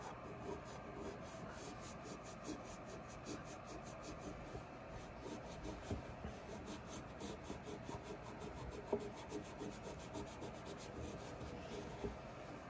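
A deer rifle being cleaned after barrel lapping: a faint, steady back-and-forth rubbing and scrubbing in quick repeated strokes, close and continuous throughout with no talk.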